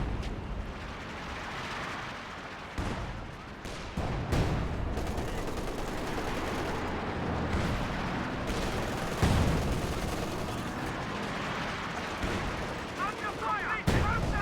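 Gunfire and artillery blasts in a Company of Heroes 2 battle, a dense rumbling barrage of booms and shots with sharp cracks scattered throughout, continuous and fairly loud.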